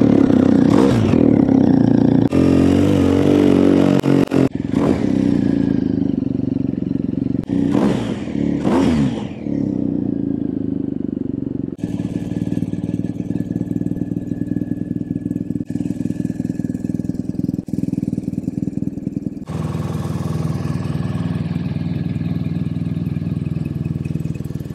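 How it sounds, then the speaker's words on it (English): A motorcycle with an aftermarket Akrapovic exhaust idles and revs repeatedly, with loud throaty bursts and crackles from the exhaust between steadier idling stretches. "he's got a very nice Akrapovic exhaust on here, which sounds awesome. Have a listen to that."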